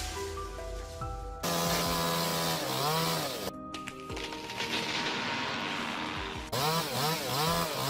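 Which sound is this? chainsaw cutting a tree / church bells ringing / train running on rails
chainsaw cutting a tree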